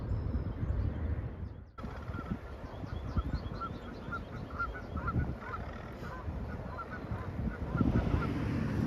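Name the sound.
Canada geese honking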